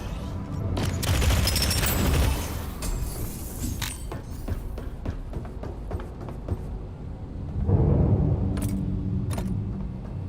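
A heavy-recoil gun fires in the roguelite shooter Deadzone: Rogue: rapid bursts of sharp, clattering shots with metallic mechanical rattles and deeper thumps at the start and near the end, loud and close, with no speech.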